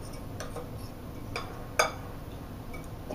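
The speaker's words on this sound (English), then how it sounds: "with a spoon or a fork, just mix that into your flour" A spoon stirring ground cloves into flour in a bowl, producing a few light scattered clinks and taps against the bowl, one sharper knock midway, over quiet kitchen background.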